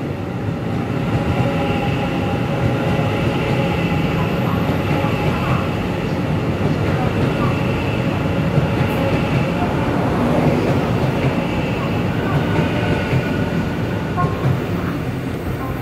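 An EMU900 electric multiple unit commuter train, a ten-car silver-green set, departs a station with a steady, loud rumble and rising hum of traction motors, wheels rolling continuously throughout.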